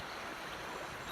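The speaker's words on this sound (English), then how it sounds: "a bit of a rush coming down the creek" Floodwater rushes down a creek in a broad, steady wash of turbulent noise, close and continuous for a brief moment with no voices.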